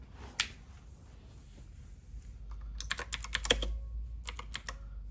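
Bursts of typing on a computer keyboard, a quick isolated tap near the start, then clusters of clicky keystrokes in the second half over a quiet room hum.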